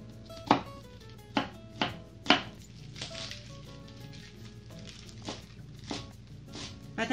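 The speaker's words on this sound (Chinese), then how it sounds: "那我们切菠菜，菠菜梗不要切掉，如果你嫌它脏，可以把第一刀去下，然后这个梗这边切碎" A knife chops spinach stems on a cutting board in a run of distinct, close thuds, several strong strikes early and lighter ones later, with no voices.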